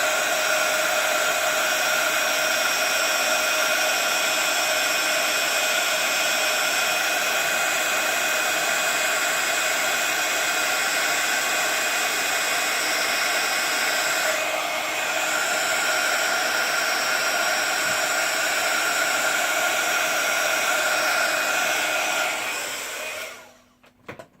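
A heat embossing tool blasts hot air onto a stamped greeting card, a steady, close whirring hiss with a constant tone that runs unbroken for over twenty seconds before clicking off near the end.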